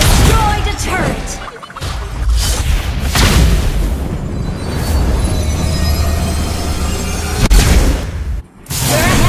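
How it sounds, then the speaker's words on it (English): A turret is destroyed in the Mobile Legends video game, a loud booming explosion with crashing impacts and rumble, surrounded by busy game effects and a brief announcer voice. "Your team destroyed a turret."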